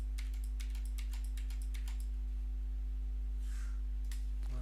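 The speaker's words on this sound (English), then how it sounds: "I'm just doing down arrow on the keyboard." Quick repeated clicks of a down-arrow key being tapped on a computer keyboard, a rapid run of close taps that pauses and then returns with a few more, over a low electrical hum.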